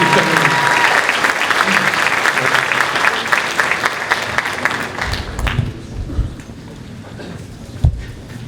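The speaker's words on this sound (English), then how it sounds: "Rachel Singman, let's give her a round of applause" A high school chorus concert audience gives loud, dense applause for a first-time performer, holding strong for about five seconds before thinning into scattered claps and crowd murmur.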